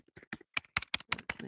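Quick, crisp keystrokes on a computer keyboard, about a dozen taps in a short uneven run, close by and fairly quiet.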